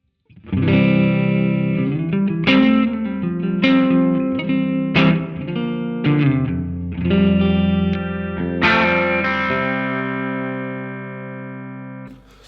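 Clean electric guitar notes and chords ring out one after another, sustaining with a gentle pulsing shimmer, played alone and fairly loud.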